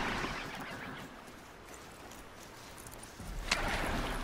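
A horse mount plods along at a walk in Horizon Zero Dawn, its hooves giving soft, steady clip-clop beats over a quiet outdoor ambience, with a brighter burst near the end.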